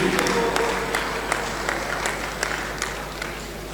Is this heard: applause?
yes